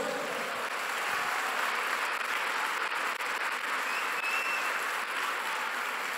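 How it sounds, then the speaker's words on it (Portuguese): Church congregation at an evening service applauding, a dense, even roar of many hands clapping together that stays at a constant level throughout, with faint high tones lingering in the room. "Você pode aplaudir a Jesus nessa noite."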